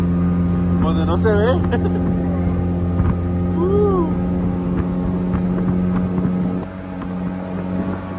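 A small speedboat (rapidita) accelerates on a lake in Michoacán with a steady, loud engine drone and wind buffeting the microphone. A person speaks briefly over the engine noise.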